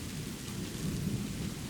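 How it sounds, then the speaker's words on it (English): Thunder rolls through a storm as a continuous, deep rumble under a steady hiss of falling rain, heard from indoors through a window. "the thunder rolled through his window"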